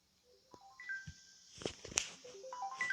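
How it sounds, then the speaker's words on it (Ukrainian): A phone ringtone plays a rising and falling electronic melody of short tones, moderately loud and close, with some soft knocks and movement underneath during a Minecraft Bed Wars game session. "Вибачте, що до нас тут дзвонить, це було непередбачено"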